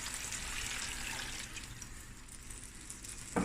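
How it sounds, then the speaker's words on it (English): About two cups of water pour into a pot of Cape Malay denning vleis. A steady, fairly soft splashing rush runs the whole time, easing slightly toward the end, with no one talking. "and now I'm going to add my water"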